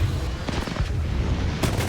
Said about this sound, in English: I threw a frag in.